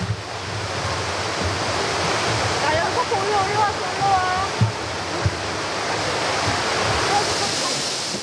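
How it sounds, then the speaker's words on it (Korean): The first waterfall at Juwangsan mountain in Korea sends up a steady, broad rush of falling water. It stays constant and fairly loud, with faint bird chirps and a few soft knocks above it. "제1폭포는 주황산 3개의 폭포 중 가장 아름답다고 알려져 있다."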